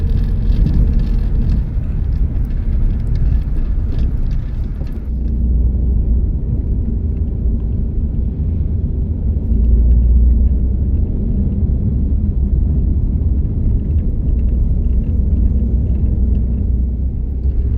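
Steady low rumble of cars driving along a narrow road on the way to a hot-spring bathing spot near Medan, North Sumatra, continuous and fairly loud throughout, with engine hum dominating and no speech.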